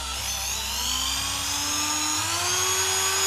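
A Makita speed-controlled electric drill running, a steady high motor whine whose pitch slowly climbs as the speed rises, close and loud, with no one talking.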